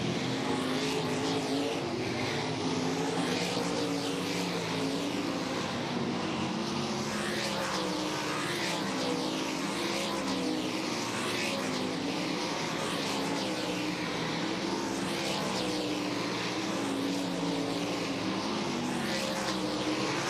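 A small airplane flies over Cedar Lake Speedway during a kart practice session at an outlaw dirt-track event. A loud, continuous engine drone with slowly sweeping pitch fills the whole stretch, with no speech.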